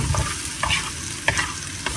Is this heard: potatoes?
yes